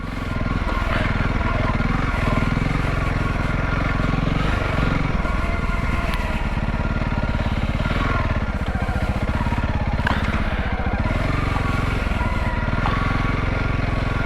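A motorcycle rides over sloping sandy ground, its engine close and loud with a continuous rough rumble that wavers as the rider works the throttle, with clattering bursts.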